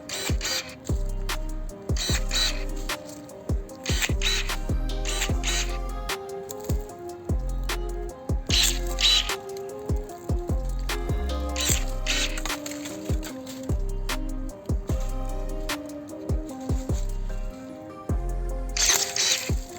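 Ronix pruning shears snip at a thin fresh branch, giving repeated sharp mechanical clicks and crunching cuts in irregular bursts over a steady background, close and fairly loud, with no talk.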